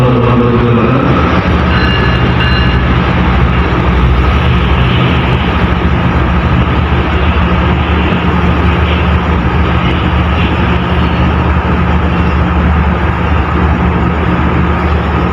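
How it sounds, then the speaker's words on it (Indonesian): Sancaka passenger train from Yogyakarta pulling into platform 6 at Surabaya Gubeng station, a steady loud rumble of engine and wheels that holds throughout with no break. "Kereta api Sancaka masuk dan berhenti di jalur 6 stasiun Surabaya Gubeng."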